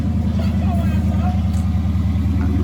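A Dodge Charger's Hemi V8 idles close by with a steady, deep rumbling throb that fills the whole clip.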